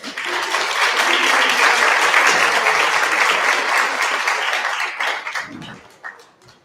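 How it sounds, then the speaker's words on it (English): A crowd at a wealth and politics summit mayoral candidates forum breaks into sustained applause, a dense roar of clapping that holds steady for several seconds before thinning into scattered claps and fading out. "Please give a round of applause."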